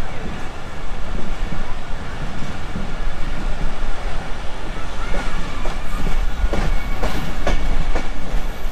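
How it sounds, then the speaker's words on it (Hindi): A Karachi Circular Railway commuter train rumbles and rattles along, a loud continuous clatter of wheels and carriage noise with brief clacks near the end as it comes into a station. "एक और स्टॉप पे जी रुकी है ट्रेन"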